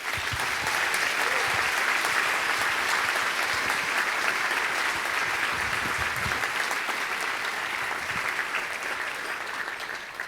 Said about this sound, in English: A round of applause for Michael and Joe